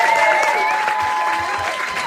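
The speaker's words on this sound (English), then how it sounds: "Give him a round of applause." Applause from a live storytelling game show audience, a brief busy burst of clapping with a tonal whistle or cheer-like sound threaded through and some voices beneath, tapering slightly toward the end.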